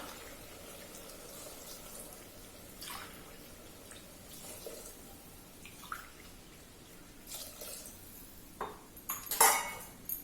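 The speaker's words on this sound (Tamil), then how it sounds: "இப்போ இதில் வந்து 3 கப்பு நம்ம தண்ணி விடலாம்." Three cups of water pour and splash into a metal pot, with dripping and a few clanks of cookware growing louder toward the end.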